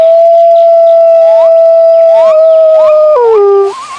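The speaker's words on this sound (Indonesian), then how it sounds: "Ini serigala teman-teman." A wolf gives a long, loud, clear howl that rises and falls in pitch over several seconds, joined briefly by other wavering howls near the end.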